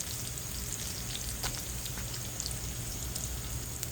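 Onions frying in a pan for leftover ribeye beef and broccoli, a soft, even crackling sizzle with scattered pops, fairly faint and steady, no voices.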